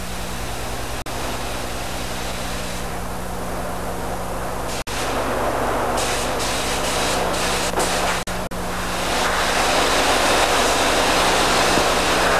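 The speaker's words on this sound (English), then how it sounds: "The backside of the prop is also sprayed black." A spray gun sprays black paint onto the back of an aircraft propeller, giving a steady broadband hiss that carries on through the whole stretch, briefly interrupted a few times and growing slightly louder toward the end.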